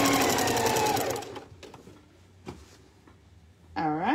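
A home sewing machine runs at speed in a loud burst, then stops abruptly, leaving a few faint clicks before a short whirring restart at the end.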